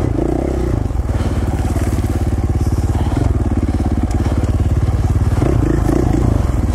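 A four-stroke dirt bike rides a single-track trail in Idaho, its engine a loud, steady, close-up drone that runs the whole way with rough clattering and scraping from the terrain underneath.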